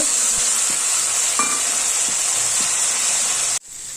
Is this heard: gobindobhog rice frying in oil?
yes